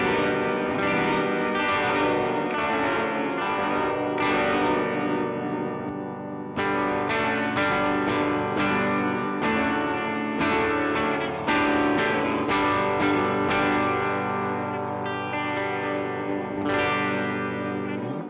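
Electric guitar run through an EarthQuaker Devices Rainbow Machine (version 1) pitch-shifting pedal with the pitch turned up, chords and notes shimmering with detuned, chorus-like wobble, loud and continuous with brief pauses.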